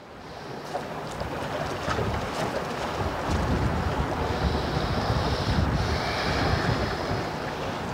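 Wind blows hard by the sea, a steady broad rush buffeting the microphone, with surf mixed in and no talk.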